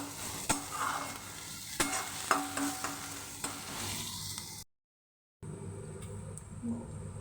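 Onions frying in a pan until reddish, with a steady sizzle, occasional scraping knocks from stirring and a short silent gap partway through.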